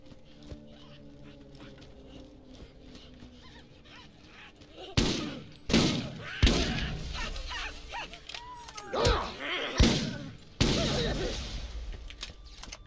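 Bursts of rapid gunfire from the video game Borderlands erupt after a quiet stretch, several loud volleys in the second half, with faint background noise and little talk.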